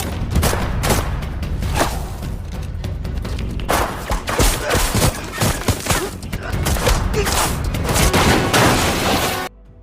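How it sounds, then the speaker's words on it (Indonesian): Sustained heavy gunfire from an intense shootout in an action film, dense overlapping bursts and thuds running continuously and loud throughout, then cutting off abruptly at the end. "Akhirnya baku tembak pun terjadi cukup sengit di tempat tersebut."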